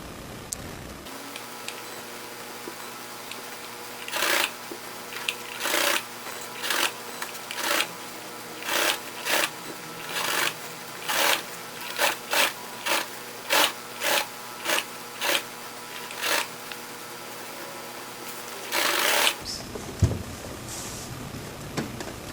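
A sewing machine stitches upholstery for a pontoon boat top, with a steady low motor hum under a slow, evenly spaced series of sharp clicks that ends when the hum cuts out near the finish.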